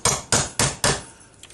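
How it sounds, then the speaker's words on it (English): A hammer strikes a metal punch four times in an even rhythm, making a hole while working on a dial lens for a 1949 Silvertone 6293 car radio; the blows are sharp and close, with lighter taps at the end. "just take a hammer, and you need to punch a hole"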